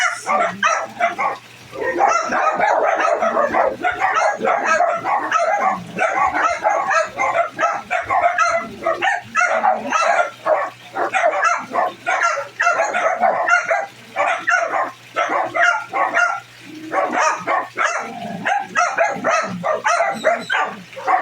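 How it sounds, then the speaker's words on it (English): Dogs barking and yipping repeatedly, fairly close, in steady bursts throughout with some whimpering mixed in. "there go the dogs."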